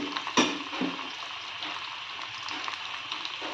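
Onions frying in a pan for tomato rice, giving a soft continuous sizzle with one sharp clank near the start and faint stirring scrapes, close and fairly quiet with no speech.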